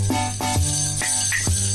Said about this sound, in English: That's the sound of the omnichord.